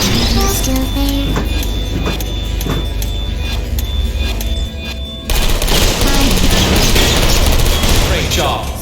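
In the Portal video game, turrets fire and servers blow up: a dense, loud stretch of rapid gunfire and mechanical clatter, then a sudden louder burst of blasts and noisy rumble that continues to the end.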